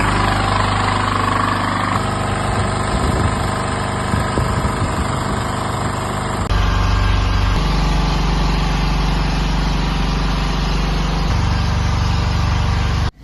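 A small imported weeder engine runs continuously on a lab strength test, a loud steady buzzing drone with shifting pitch and rattling vibration, changing tone partway through as the load varies, with no voices.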